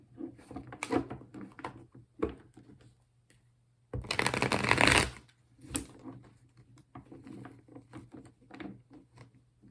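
Soft riffling and rustling of tarot cards being shuffled in several bursts, including one longer, louder flurry, close up with no talking.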